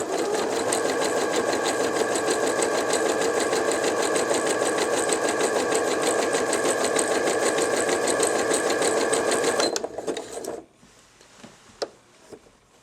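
A top-loading sewing machine stitches at a steady speed with a fast, even mechanical whir and ticking, running close for about ten seconds and then stopping, followed by a few faint clicks.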